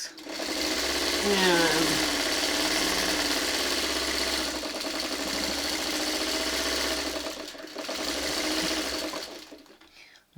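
A sewing machine stitches traditional quilt blocks together in one continuous run, making a steady mechanical whir with short pauses, close by, while a person talks over it.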